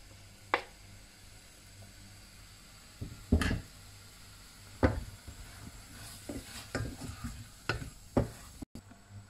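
Mushrooms cook in a thick soy bean paste sauce for Beijing zhajiang noodles, with a quiet bubbling sizzle and several sharp scrapes and knocks of a utensil stirring the pan.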